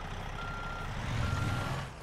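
A truck in the American Truck Simulator game gives off a steady, continuous reversing beep over a low engine rumble that swells slightly toward the end.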